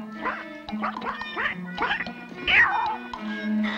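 Newly hatched cartoon duckling quacks in a rapid run of short, nasal calls, close and fairly loud, with steady background music underneath.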